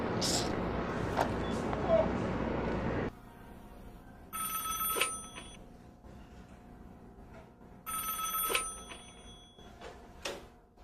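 A telephone rings unanswered in a Haitian drama, two clear bursts of bright ringing separated by a pause, heard after a stretch of noisy speech at the start.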